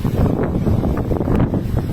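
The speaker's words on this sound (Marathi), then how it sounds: "वारं खूप सुटतंय वारं डायरेक्ट खेचतंय माणसाला" Strong wind gusting hard against the microphone outdoors in a village, a loud continuous low roar and buffeting that swells and dips, with no talking.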